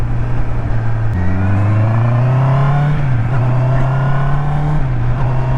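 A Honda CBR650R engine revs loud and close on a test ride, its steady drone rising in pitch and dipping at each gear change.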